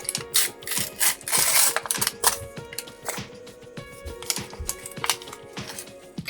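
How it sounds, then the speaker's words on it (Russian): A toy doll's disco-ball handbag being opened, giving a run of small plastic clicks, rattles and snaps, close up and fairly loud, with no voice over it. "Откроем сначала сумочку."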